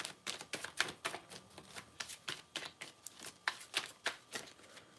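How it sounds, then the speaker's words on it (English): Tarot cards are shuffled by hand nearby in quick, riffling bursts, a busy train of crisp flutters and taps with short pauses between them and no voice. "The cards I'm seeing, I'm still shuffling because I want a little bit more details."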